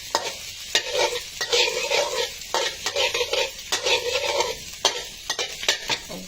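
Cabbage stir-frying in rice bran oil in a pan, with a steady close sizzle broken by repeated scraping strokes of a spatula every second or so.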